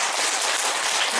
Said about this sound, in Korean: 박수 한번 쳐드려야 돼요.